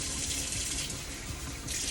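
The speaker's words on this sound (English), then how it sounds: "You just kind of want to turn your water down a little bit lower." Water runs steadily from a tap into a sink as hot and cold are mixed, a continuous close hiss that holds the same level throughout, with no voices.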